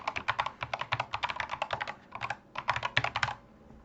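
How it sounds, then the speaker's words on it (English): An email address typed on a computer keyboard: rapid close keystrokes in quick bursts with a brief pause midway, crisp and alone. "I'm going to type in"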